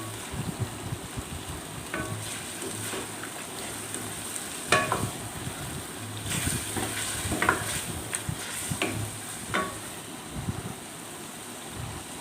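Chicken karahi stirred and frying in a pan: a steady sizzle runs throughout, broken by scraping stirs and clinks of a utensil against the metal, close and fairly loud.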